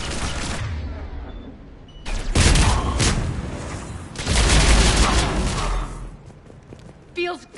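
Gunfire in the Mass Effect 3 Legendary Edition video game, two loud bursts of rapid shots with booms and thuds, separated by quieter stretches, with voices talking through the game audio.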